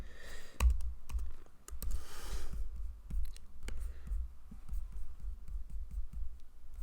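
Someone types Python code on a computer keyboard in bursts of light, close clicks with short pauses between runs of keystrokes.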